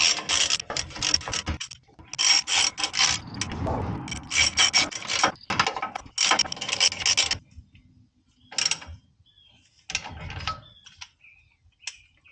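A ratchet clicks in rapid bursts while bolts on a trailer brake assembly are tightened in a star pattern, several quick ratcheting runs close by, then sparser clicks and pauses.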